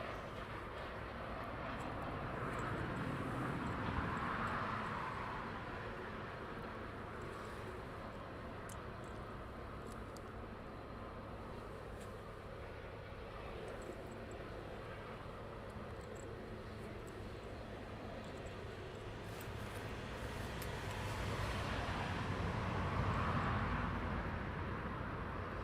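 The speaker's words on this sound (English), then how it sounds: "Nathan, DHL 777 inbound." A DHL Boeing 777 cargo jet inbound at night at East Midlands Airport, a low, steady distant engine roar that swells and fades, with no voices.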